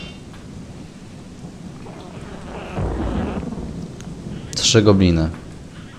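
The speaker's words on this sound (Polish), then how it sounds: "Tak śmiesznie poczuć burzę w grze. I to tak obfitą." A heavy thunderstorm with pouring rain in the video game Gothic 2 hisses steadily while thunder swells in a low rumble midway; someone speaks briefly near the end.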